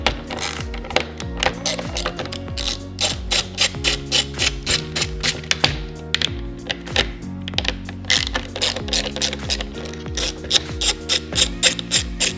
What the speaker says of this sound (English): I'm gonna use my socket wrench,